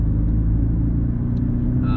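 A 2017 Porsche 718 Cayman S with a 2.5-liter turbocharged flat-four pulls under throttle, a steady, loud low engine drone with dense rumbling harmonics held for two seconds, heard from inside the car with no talk.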